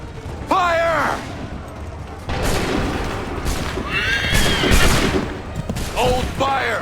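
Musket volleys ring out on a battlefield in the video game Assassin's Creed III, loud bursts of massed gunfire mixed with a horse's neighing, shouted orders and mechanical clatter.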